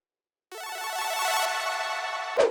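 A saw wave synth arp drenched in reverb, delay and OTT compression swells in after a moment of silence into a bright, smeared wash of sustained tone, loud and alone.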